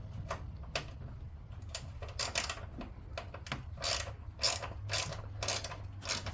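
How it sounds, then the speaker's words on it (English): A ratchet wrench undoes the bolt holding the breather box on a 2015 Hellcat 6.2L Hemi engine, giving close, crisp bursts of ratcheting clicks in irregular runs with short pauses between them. "Now we're going to undo this bolt here, holding the breather box down."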